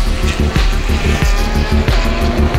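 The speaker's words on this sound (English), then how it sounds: "Okay, now the car is coming in." An endurance race car arriving at the pit, its engine loud and close with a rhythmic throbbing roar and some tire noise throughout.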